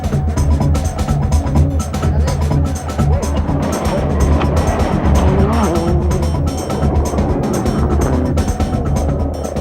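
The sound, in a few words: rally car racing with tire squeal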